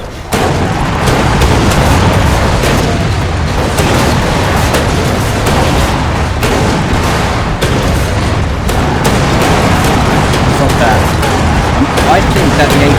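Continuous loud battle din in the Warhammer game Eternal Crusade: explosions and booming blasts with rapid gunfire packed densely throughout, near and constant.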